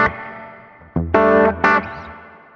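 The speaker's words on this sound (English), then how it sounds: "This is a spring reverb." Electric guitar notes played through a Boss GT-100 spring reverb effect, a few struck chords ringing out with a splashy, lingering tail.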